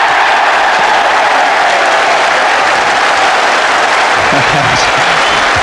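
Loud, continuous applause from a large crowd at Old Trafford during an Ashes Test in 1981, saluting a batsman reaching fifty, with a commentator's voice coming in near the end.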